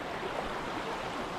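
River water flowing steadily during a river crossing on a hike in Pisgah National Forest, a continuous broad rushing wash, close and even throughout.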